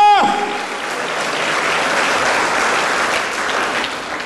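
A congregation at a Christian religious program breaks into strong applause. A brief tonal sound opens the clip, then dense clapping swells and holds steadily for several seconds.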